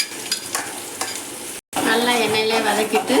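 Ground roasted masala paste fries and is stirred in hot oil for a village-style mutton curry, a loud bright sizzle with scraping stirs, briefly cut off mid-way before sizzling resumes more intensely.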